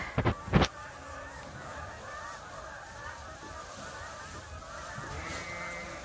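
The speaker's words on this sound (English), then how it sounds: "All the geese are flying over." A flock of migrating geese honks overhead on a Canadian sheep farm, a steady, distant chorus of calls, with a few sharp nearby knocks at the start.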